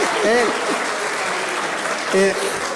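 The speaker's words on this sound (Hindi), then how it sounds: "क्या एक बार ताली बजाओ इसी तरह से करो तो।" A comedy event audience in Lucknow claps on request, a steady wash of applause with voices speaking over it near the start and again toward the end.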